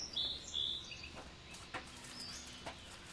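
Birds chirp faintly in the ambient background of the Tank Mechanic Simulator video game: a few soft, high tweets near the start, then sparse, distant calls over a quiet, steady hum.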